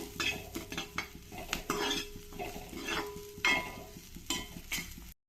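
Onions fry in oil in a pan for a hyacinth bean sambar while a metal spoon stirs and scrapes in repeated quick strokes, soft sizzling underneath the close, rhythmic clatter.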